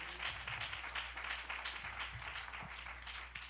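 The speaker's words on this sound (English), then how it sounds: "would y'all clap your hands for her?" Congregation at a church service clapping hands together to welcome a young woman: a steady, dense patter of applause that stays fairly faint and distant throughout, with no talking over it.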